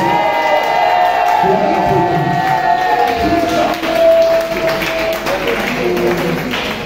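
Church congregation at a morning service raising acclamations, a mix of cheering, shouts and scattered clapping with musical tones sustained underneath, lively and fairly close throughout.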